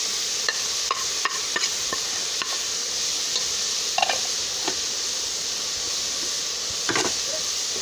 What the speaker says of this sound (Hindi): इसको मसालों के साथ फिर से फ्राई करेंगे, भूनेंगे अच्छी तरह से